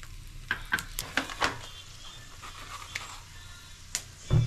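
Bay leaves and dried chillies drop into hot oil in a pan, giving a soft steady sizzle with a few sharp clinks and scrapes of a spoon against the pan, close and fairly quiet.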